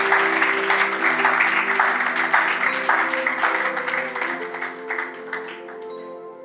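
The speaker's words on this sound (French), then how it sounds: "Acclamons pour Jésus" A church congregation applauding and cheering during a French-language sermon, loud sustained clapping that slowly fades, with music and voices blended underneath.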